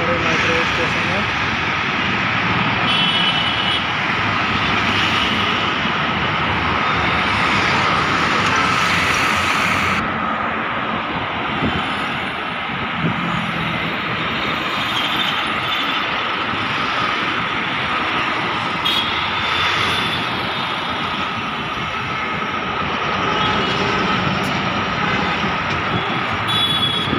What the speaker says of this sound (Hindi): मेट्रो जा रही है दोस्तों।